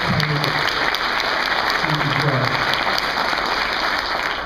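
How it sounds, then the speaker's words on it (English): Applause from a breakfast awards audience, a steady broadband clatter of many hands clapping sustained through the whole stretch, fairly loud and close, with a few low voice murmurs mixed in. "Let's give them a round of applause."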